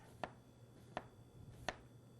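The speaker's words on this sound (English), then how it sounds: "we want to get a flat surface so that we can get this onion chopped up" A knife cuts thin slices of onion on a cutting board: three sharp, evenly spaced taps against the board, faint and close, with no other sound.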